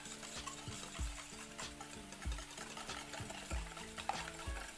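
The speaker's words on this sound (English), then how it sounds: "A quick whisk." Eggs whisked for a celeriac frittata, a fork or whisk beating in a steady repeated rhythm of clicks and scrapes against the bowl, close and moderately loud with no talking.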